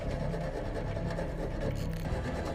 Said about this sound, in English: what has he been sawing away at this pipe for?